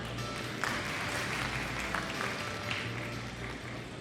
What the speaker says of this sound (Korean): 이어서 금호통상 정명석 대표님 참석하셨습니다. 박수 부탁드립니다